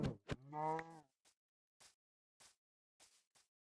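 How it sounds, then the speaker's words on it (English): A Minecraft cow lets out a loud, close moo followed by a series of soft, short footstep-like taps spaced across the rest of the moment, with no talking. "Another cow. Another cow."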